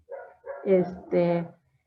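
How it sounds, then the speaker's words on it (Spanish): A small dog across the street barks several times in quick yips through a closed window, fairly near and clear in a quiet room. "perdón por el perrito de enfrente"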